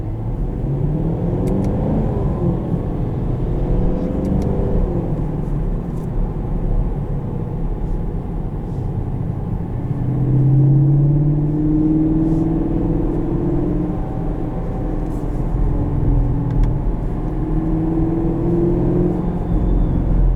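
A 2020 Chevrolet Camaro SS driving in its stealth engine-sound mode gives a low, steady rumble and whir from inside the car, with smooth, gentle swells as the engine speed rises slightly.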